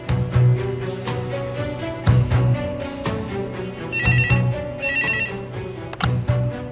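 An old-style bell telephone rings insistently, with repeated loud jangling bursts in a steady rhythm and no voices over it.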